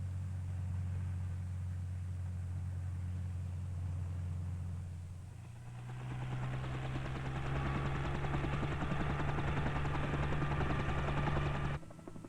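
Helicopter in the air scattering treated tree seeds over harvested land, a continuous loud rotor and engine drone that shifts pitch midway and swells louder before cutting off abruptly, no voices.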